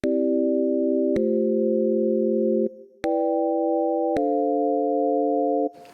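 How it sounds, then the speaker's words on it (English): A synthesized chord progression, transposed down four octaves and EQ'd, plays as four sustained, pure-toned chords that change about every second and a half, loud and clean with no voice. "if I transpose this progression down 4 octaves"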